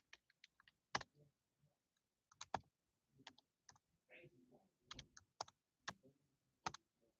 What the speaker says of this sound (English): you'll actually be able to see me get a chance to type in the name of a game